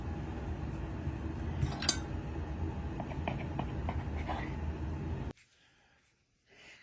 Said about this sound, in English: now we're going to cut this into manageable pieces here